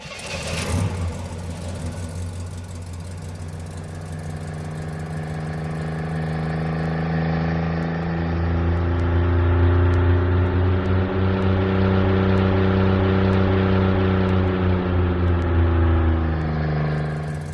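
Synthesized car engine built in a MetaSound patch, a steady harmonic drone that swells as revs climb, holding a loud, sustained whine with rising and falling tones, no voices.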